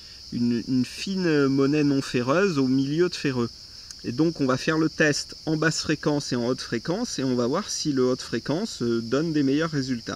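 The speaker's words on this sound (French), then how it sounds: "désolé pour le bruit des cigales, mais étant donné que je suis dans le sud-est et qu'on est au mois de juillet" Cicadas drone in a steady, high buzz throughout a July summer day in south-east France, under someone talking continuously close to the microphone.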